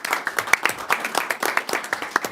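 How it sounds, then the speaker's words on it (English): A school board meeting audience gives a brief round of applause, with distinct individual claps landing in quick, uneven bursts from a modest-sized group. "give them a round of applause for being a part of that"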